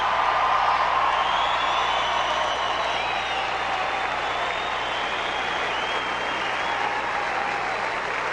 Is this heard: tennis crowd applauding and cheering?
yes